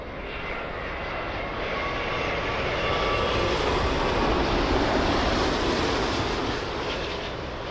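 Delta airliner landing on runway 27L at London Heathrow, a loud, sustained jet engine roar that swells slowly and holds steady, with wind noise around it.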